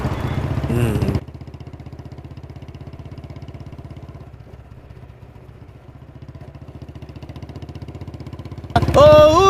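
A motorcycle engine putters at a steady idle with a regular low chugging rhythm, close and fairly loud, while voices speak briefly at the start and again at the end.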